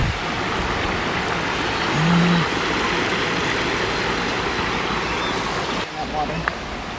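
Steady rushing water flows continuously under a trail bridge on the Struble Trail, a broad wash of noise with a brief low hum partway through.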